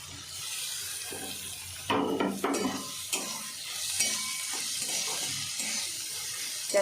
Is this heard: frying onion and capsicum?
yes